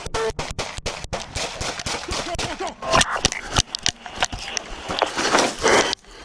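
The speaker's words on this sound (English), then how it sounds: "shots fired again" Gunfire aimed at police officers in a confrontation: a rapid string of sharp, cracking shots in bursts, fairly close, with a scramble of knocks and movement between them and no clear talk.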